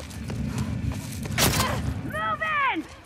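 Gunfire in The Last of Us Part II crackles as a quick burst of sharp, loud shots in the middle, amid steady background game noise, followed by a short rising whine.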